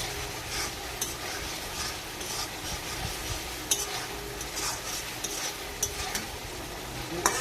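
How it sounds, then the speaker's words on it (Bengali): Spice masala fries and is stirred in a pan with a few spoonfuls of water, giving a steady close sizzle with scraping strokes and occasional sharp clinks of a spoon against metal. "2 থেকে 3 চামচ মতো জল দিয়ে মশলাটাকে কষে নিচ্ছি"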